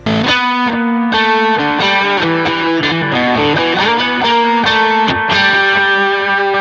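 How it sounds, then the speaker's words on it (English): A distorted, overdriven electric guitar plays a sustained melodic line, notes ringing into one another with a spacious delay tail, loud and up close. "The delay that's on there just helps kind of round that sound out, give it a bit of ambience"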